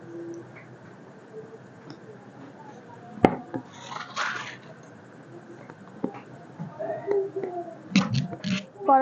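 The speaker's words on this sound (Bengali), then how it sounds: "আমি কড়াইটা বসিয়ে নেব।" An iron karai is set down on a village stove with one sharp metallic clunk, followed by a few softer clinks and rattles of cooking utensils, quiet and close, with faint speech in between.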